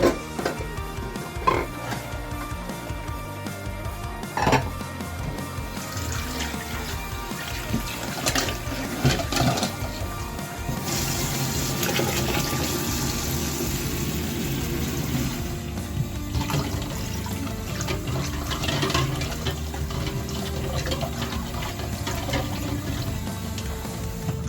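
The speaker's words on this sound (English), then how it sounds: "they can now go up under the cold water tap" Cold tap water runs steadily into and over glass pickling jars at a kitchen sink, a continuous hiss and splash for most of the stretch, getting louder and fuller partway through.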